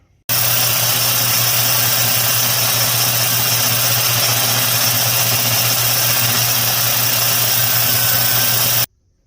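A Milwaukee M18 chainsaw runs with its sprocket drum spinning, giving a steady, loud motor hum and whine that holds unchanged from start to stop, close up and with no talking.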